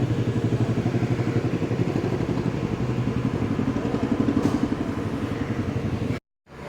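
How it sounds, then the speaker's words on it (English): A very loud motorcycle engine runs up close at a smog test with a steady, throbbing, pulsing rhythm. It holds for about six seconds, then cuts off abruptly. "It's a very loud bike."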